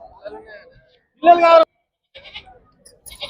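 A single loud, close bleat, likely from one of the sheep at a livestock market in Miryalaguda, between brief bursts of talk.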